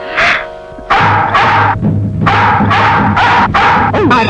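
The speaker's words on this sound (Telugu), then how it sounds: "ఎవరిదో వేట కుక్కలా ఉంది" A hunting dog barks in a series of sharp, loud barks with short gaps, some breaking into yelps and whimpers, with no voices.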